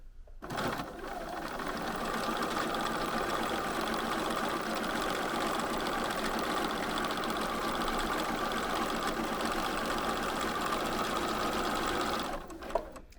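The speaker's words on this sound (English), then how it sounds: "and just start sewing." A sewing machine stitches shirring rows on fabric in one long continuous run, its steady rapid motor whir and needle clatter holding close and loud before stopping abruptly at the end.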